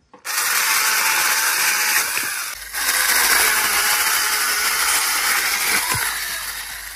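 A small chainsaw cuts dead wood at a bivouac in the Hautes-Pyrénées, its engine buzzing loudly and steadily up close for about seven seconds with only slight dips in pitch and no talk.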